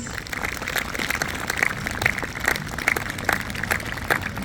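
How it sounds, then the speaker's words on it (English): A crowd at a sports academy's inaugural ceremony claps to welcome a guest, steady rhythmic applause filling the room for several seconds. "with a loud round of applause"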